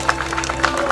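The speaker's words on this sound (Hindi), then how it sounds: "तालियों के साथ आप स्वागत करें" A brief burst of wedding guests applauding, a steady patter of many hands at moderate level with no talk on top.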